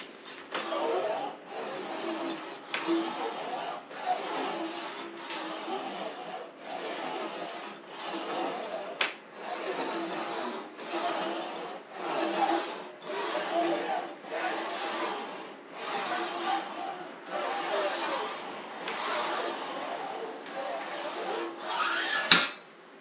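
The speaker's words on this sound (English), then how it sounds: "So I'm going to get to lightly stretching that panel back out to relax it down." Aluminum ducktail wing panel for a Honda Civic being lightly stretched on an English wheel: a steady run of rhythmic rolling passes, about a dozen even back-and-forth strokes at moderate loudness, with no talk.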